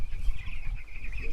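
Chickens cluck in a fowl coop on a local poultry farm in Jamaica, a steady low murmur of birds close by with a high whining hum running throughout.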